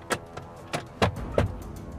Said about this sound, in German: Elektrische Fenster rundum.